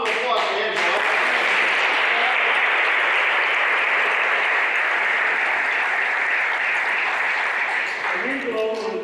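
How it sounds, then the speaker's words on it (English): An auditorium audience at a Veterans Day ceremony in Leominster City Hall breaks into sustained applause that rises quickly, holds as a dense wash of clapping for about seven seconds, then fades, with no talk over it. "Round of applause, Angelo."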